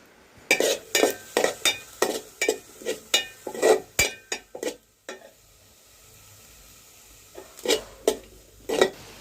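Bitter gourd and onion cooking with salt in a pan on the stove, with a rapid series of loud spoon scrapes and clinks against the pan, a pause of soft frying, then a few more stirring strokes.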